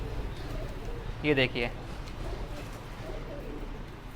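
Black Punjabi pigeons make low cooing sounds, with one brief distinct burst near the middle, under a steady background and someone speaking briefly.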